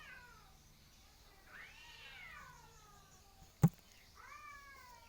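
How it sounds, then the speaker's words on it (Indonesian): Cats fighting, trading rising and falling meows and yowls at moderate distance, with a sharp thud partway through; quiet otherwise, no talking. "Kucing berkelahi."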